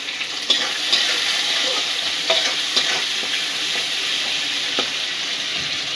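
Prawns fry in hot oil in a pan with a bright steady sizzle, and the spatula scrapes and stirs in short intermittent strokes, with no talking.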